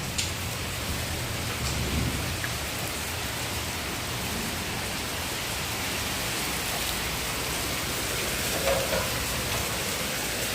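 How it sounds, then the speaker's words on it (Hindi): Heavy monsoon rain pours steadily outside a house in a residential colony, a dense continuous hiss with low thunder rumbling softly beneath it, no voices. "और बाहर देखो कितनी तेज बारिश हो रही है।"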